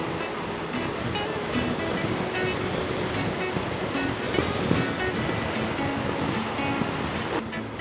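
Lake waves lapping under steady wind on a calm evening by a lake during a motorcycle ride, a continuous broad wash of water and gusty wind noise throughout, fairly loud and close, with no talking.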